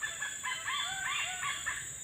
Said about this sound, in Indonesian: Burung kungkai.